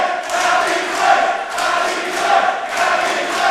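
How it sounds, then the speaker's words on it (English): A wrestling crowd at a live show cheering for Draven, a sustained roar of voices swelling and easing in waves, loud and continuous. "There it is again, this crowd. They really can't help getting behind Draven."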